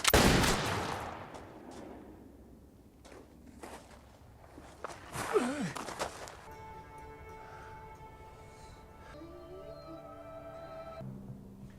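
Gunfire in a John Wick Chapter 4 movie scene: a loud, sharp blast opens, followed by scattered quieter bangs, then a calmer stretch with sustained tones.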